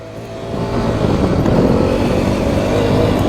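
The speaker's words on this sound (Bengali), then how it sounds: "একটু স্পিডে টানা যাক বাইকটাকে" A Hero Xpulse 210 motorcycle builds speed with a loud, close, steadily rising engine roar that swells and holds over a few seconds of riding.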